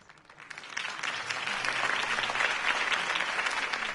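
Crowd applause for a campaign speech in the Telltale Batman game, a dense wash of clapping that builds over the first second and then holds steady and fairly loud to the end.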